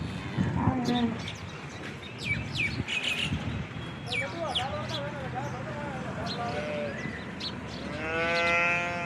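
A cow moos loudly near the end on a dairy farm, with birds chirping and people talking over farm background noise earlier.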